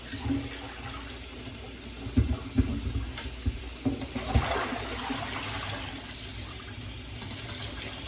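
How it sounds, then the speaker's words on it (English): Tap water runs into a pot in a home kitchen, a steady close stream with a few clattering knocks partway through. "so I got the water, let it fill up so it can start cooling off."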